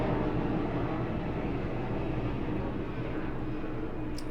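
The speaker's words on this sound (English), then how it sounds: "I'm waiting for this helicopter to fly over the hood." A helicopter passes overhead above a city neighborhood as a deep, steady, rumbling drone, low and continuous throughout with no voices.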